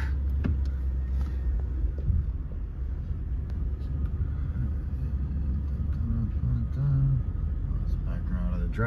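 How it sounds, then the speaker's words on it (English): A 1979 Chevrolet Impala, long stored in a garage, idles and backs slowly out of a driveway with a steady low engine rumble throughout, while someone talks over it. "So, let's slam the door, back her up here."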